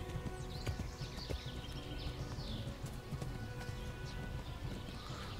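Horses riding slowly in the video game Kingdom Come: Deliverance, their hooves giving a steady, unhurried clip-clop with a soft whinny and ambient outdoor noise, moderately quiet throughout.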